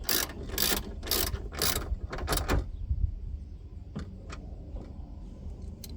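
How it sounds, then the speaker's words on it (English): A ratchet tightens bolts on a 2014 Chevy Cruze window regulator, a series of quick, close clicking bursts that slow and fade into a few separate clicks. "Now the bottom ones I'm going to go ahead and tighten up because they just have a through hole."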